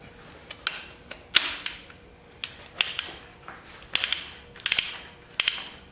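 A ratchet fitted with a 14 mm socket clicks in short, uneven bursts while working on a 1981 Pontiac Trans Am engine, close by and with brief pauses between strokes.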